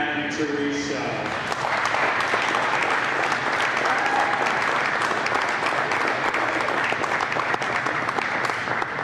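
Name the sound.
crowd applauding a senior wrestler at a home meet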